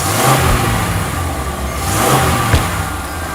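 A car engine runs and revs just after starting, a steady mid-range growl with surging swells in loudness, heard close and alone without talking.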